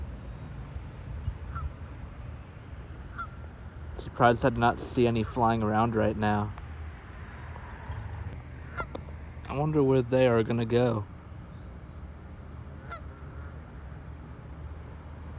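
Geese honking in a series of harmonic calls in two bursts, fairly close, with a person speaking quietly between and over them outdoors.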